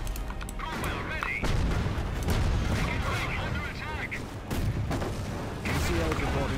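Heavy artillery booms and crackling gunfire fill a Company of Heroes: Opposing Fronts battle, a dense continuous barrage with repeated blasts over the whole stretch, while game voice callouts are heard beneath.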